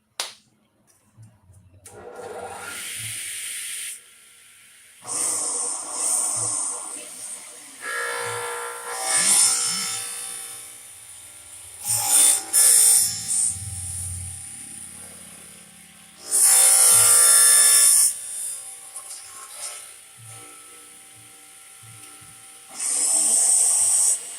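A power-driven saw makes repeated plunge cuts down into a workpiece to form slots, sounding as loud bursts of whining, buzzing cutting that start and stop in several separate passes with quieter gaps between them.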